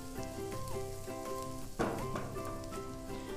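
Finely chopped garlic fries in a hot pan for chicken patties, a soft continuous sizzle with a brief louder crackle as more goes in, heard close with no voices.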